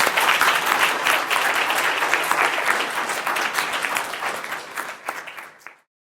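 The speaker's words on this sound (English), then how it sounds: "Why don't we give them all a round of applause?" Sustained audience applause after a team's presentation at a university investment challenge, dense and steady clapping from a sizable crowd that tapers and stops abruptly near the end.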